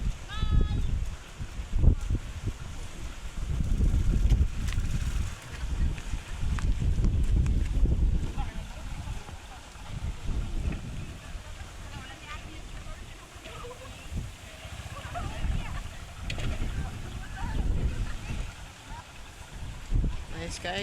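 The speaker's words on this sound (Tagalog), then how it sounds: "Sobrang hangin." Strong wind gusting in cold mountain terrain, buffeting the microphone with loud, uneven low rumbling for the whole stretch, with brief surges and lulls; occasional faint voices sit underneath.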